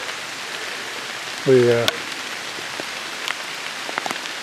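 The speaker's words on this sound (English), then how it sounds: "we're getting some rain here on that new plot" Steady rain patters on a newly planted food plot outdoors, a continuous hiss of drops close by, with a voice speaking briefly over it.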